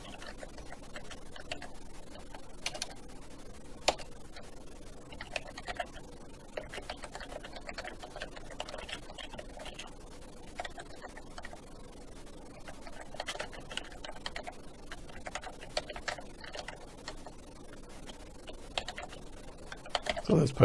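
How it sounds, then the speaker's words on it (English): Typing on a computer keyboard, heard as a steady stream of light, close clicks with occasional louder keystrokes, continuing without a break against faint background noise. "So let's type some more stuff."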